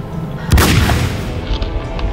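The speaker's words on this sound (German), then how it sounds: "Ein Schuss. Wir sollten hier verschwinden." One booming gunshot in the Silent Night video game, a loud low blast that decays into a rumbling tail over a couple of seconds, with no talking.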